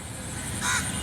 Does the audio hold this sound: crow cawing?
yes